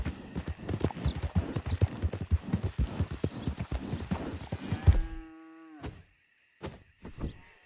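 A horse gallops in Red Dead Redemption 2, its hooves pounding in a fast, loud, steady rhythm for about five seconds before the horse lets out a loud whinny, followed by a few scattered thuds.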